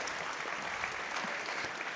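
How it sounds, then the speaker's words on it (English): A crowd at a state fair FFA market beef show applauds the reserve champion heifer's exhibitor, a dense, even wash of clapping that holds steady for two seconds. "Let's give him a nice round of applause."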